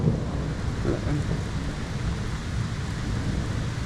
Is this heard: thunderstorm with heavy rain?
yes